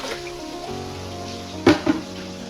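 Water is poured gently into a catfish hatchling pond, a soft steady trickle and splash running throughout, with a couple of brief louder sloshes near the end.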